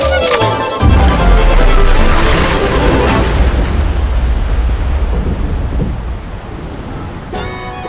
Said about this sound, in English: The tower's gonna blow. Fire in the hole!